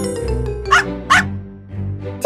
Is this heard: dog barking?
yes